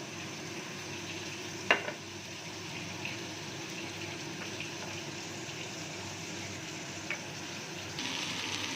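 Eggplant fries in a pan with a faint, steady sizzle, broken by a couple of brief utensil clinks.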